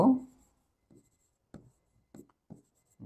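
Pen or chalk writing during a calculus lesson, a few short separate scratching strokes at an irregular pace, close and quiet against a near-silent room, with a brief vocal sound at the start.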